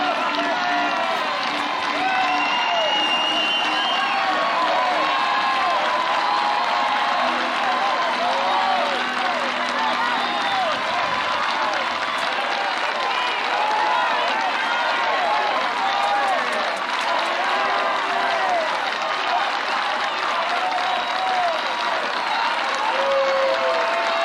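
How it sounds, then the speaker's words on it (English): Crowd at a women's college softball game between Alabama and Kentucky claps and cheers continuously, a broad sustained roar with whistles, under a commentator's voice. "the crowd will come to life a little early here"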